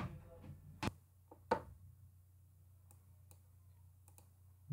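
Mouse clicks while changing computer network settings to fix a WiFi connection with no internet: two sharp clicks early on, then a few faint ticks, over a low steady hum.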